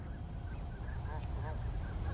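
Migrating Canada geese honk in a loose series of calls over steady outdoor background noise, moderately distant, during spring east of a city.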